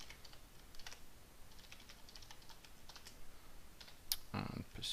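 Someone typing on a computer keyboard while configuring Windows Server 2008 R2, a faint run of quick, irregular key clicks with a louder clatter near the end.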